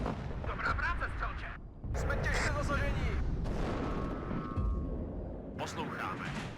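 Artillery barrages in WARNO pound the battlefield, with repeated booming impacts and rumbling explosions in bursts, loud and close, while a voice talks over them.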